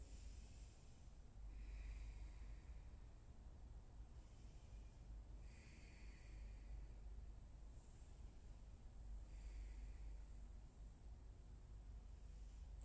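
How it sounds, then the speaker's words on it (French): Slow, rhythmic Ujjayi breathing during a yoga flow, a soft throaty rush of air repeated about four times, steady and close with no talking. "La respiration Ujjayi se fait naturellement ici."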